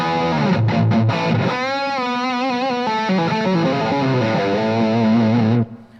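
Distorted electric guitar through an amp on a 1970 stack setting, with thick crunchy chords and sustained notes ringing loudly, alone for several seconds before cutting off abruptly.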